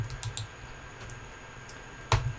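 Keyboard key presses and mouse clicks during PC gameplay of Strive: a few soft taps early, a quiet stretch, then a sharper, louder click cluster near the end, all close and with no talk.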